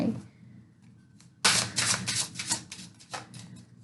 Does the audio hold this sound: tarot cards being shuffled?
yes